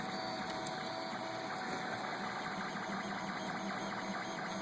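A Felix 3D printer at work, its motors giving a steady, continuous whirring hum with faint mechanical ticking, even and unbroken throughout.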